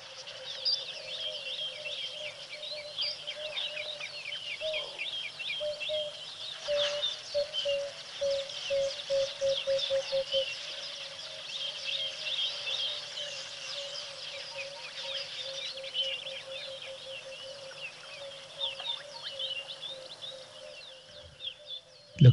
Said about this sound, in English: Lots of birds this morning.